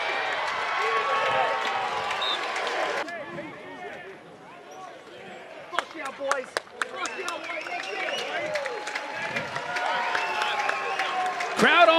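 Lacrosse crowd at Class of 1952 Stadium in Princeton cheering and applauding after an NCAA tournament win, a loud continuous roar of applause and voices with a quieter dip midway, then sharp claps and rising cheers.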